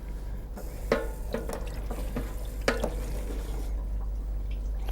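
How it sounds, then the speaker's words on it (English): Water from a kitchen faucet runs over rinsing hands, giving a steady close wash with a few sharper splashes and drips. No one speaks. "I'm going to give myself a rinse here."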